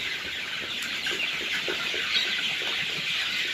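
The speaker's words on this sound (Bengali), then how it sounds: "দেখেন ভুট্টা ফার্মেন্টেশন পদ্ধতিতে কীরকম খায় মুরগি" Steady clucking of farm chickens eating fermented maize, mixed into a dense, continuous background of bird calls and farm noise, with no one speaking.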